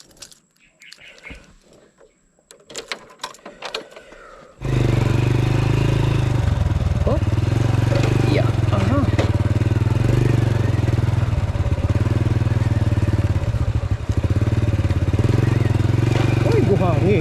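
A city-use motorcycle idling on a rough trail road in Bulacan, Philippines, the engine starting after quiet and then holding a loud, steady close-up drone with faint voices under it.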